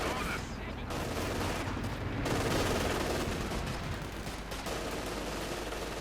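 Rifle fire in a Company of Heroes 2 match crackles as dense, overlapping bursts of battle noise beneath constant, heavy game sound, with a commentator speaking over it.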